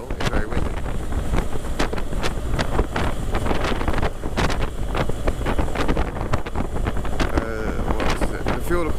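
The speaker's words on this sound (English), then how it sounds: "as you can tell, it's very windy" Strong wind buffets the microphone on a moving 2017 BMW R1200GS Rallye motorcycle in loud, irregular gusts and thumps, a rough blustery roar throughout with an engine hum underneath.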